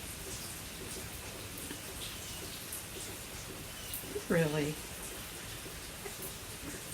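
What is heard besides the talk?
rain falling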